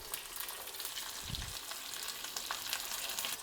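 Tempering of mustard seeds, sesame, green chilli and curry leaves in hot oil gives a dense, steady hiss with fine crackles and pops, close to the microphone, with a brief low stir near the middle.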